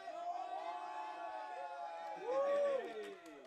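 A baseball crowd cheers and whoops for the bat boy, a broad swell of voices with a rising shout near the end, loud and close under light talk.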